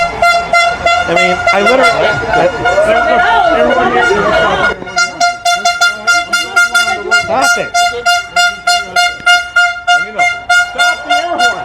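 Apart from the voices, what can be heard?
air horn blasting at political event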